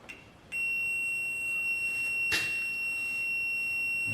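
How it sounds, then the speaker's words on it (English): A multimeter's continuity tester gives a continuous high-pitched electronic beep that starts abruptly and holds steady, with a brief click partway through, while tracing a short circuit in trailer wiring. "Okay, so I turned the beeper part on."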